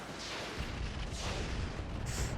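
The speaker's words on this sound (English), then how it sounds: "That's a dead commando. Ammo explosions." Ammo explosions in the mech combat game RogueTech as a destroyed commando mech's ammunition cooks off, a dense rumbling barrage of booms and crackle running continuously, loud and without talk.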